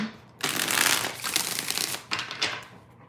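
A deck of tarot cards is shuffled by hand in a few quick, crisp riffling bursts, close and fairly quiet, with no talking.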